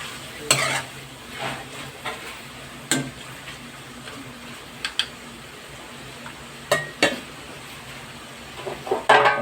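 Chicken intestines stirred with soy sauce in a pan: scraping and clacking of a utensil against the pan in irregular strokes over a soft steady sizzle, close and moderately loud, no talk.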